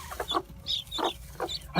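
A skittish Leghorn hen clucks in a series of short, close, distinct calls with brief pauses between them, alone with no voices.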